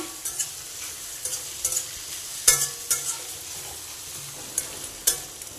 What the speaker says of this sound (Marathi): कांदा टाकून घेऊयात हळून घेऊयात कांदा